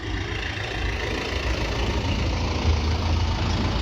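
A 1995-model tractor idles at the Moga tractor market in Punjab, a steady low engine chug running unbroken and fairly loud with no voices.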